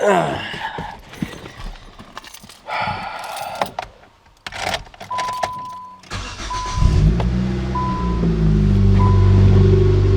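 A few clunks and shuffling sounds, then a Nissan Sentra fitted with a 350Z exhaust starts and settles into a steady, fairly loud idle with a deep exhaust rumble.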